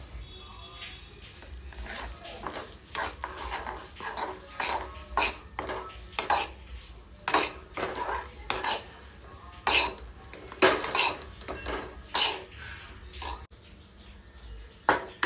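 A spoon stirs and scrapes flour roasting in ghee in a small pan, making a steady run of close, irregular scrapes and light metallic clinks that carry on for several seconds.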